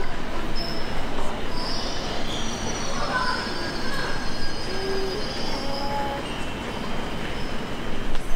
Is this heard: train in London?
yes